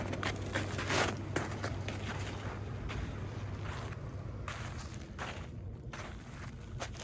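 A cooling fan runs inside a 2010 Lexus RX 450h hybrid that is powered on, giving a steady, even whoosh of airflow noise throughout with no talking.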